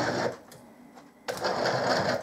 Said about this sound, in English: This motor is from a cordless drill.